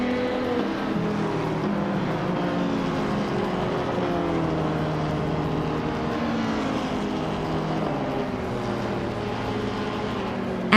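A 1995 Honda Integra Type R race car engine in a racing video game drones steadily, its revs rising and falling smoothly at a constant moderate loudness over the whole stretch, with no voices.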